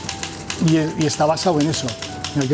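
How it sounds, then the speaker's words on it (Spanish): Rapid typewriter keystrokes clatter in quick bursts beneath someone speaking Spanish, the mechanical taps clear but partly masked by his voice. "qué bonito escuchar la máquina de escribir"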